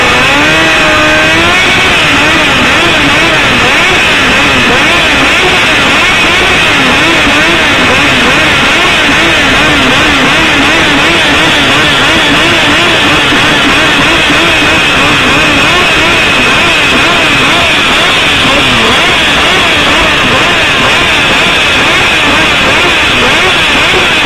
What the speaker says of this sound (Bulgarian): Хонда срещу Триумф.